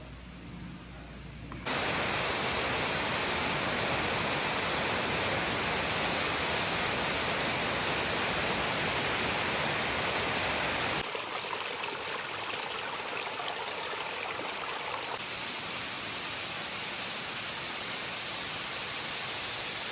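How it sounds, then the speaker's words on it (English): A mountain stream and jungle waterfall near the Shangfang Mountain Zen Monastery outside Beijing: a steady, dense rushing roar that runs without a break, its tone shifting slightly partway through. "Continuing along the mountain stream, another waterfall cascades down the jungle cliffs."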